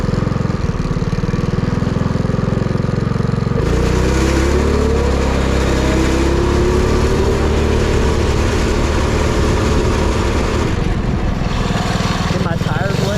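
A Predator 212cc small engine with a Stage 1 upgrade launches its vehicle and revs hard, a steady loud buzzing drone that climbs in pitch through the middle and then settles, close and continuous.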